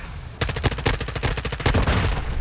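Rapid pistol shots in the Modern Warfare 2 video game crack in a dense, loud string of bursts, close up and continuing to the end.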